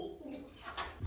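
A pigeon gives a brief, soft, low coo, heard faintly and close by in a short moment.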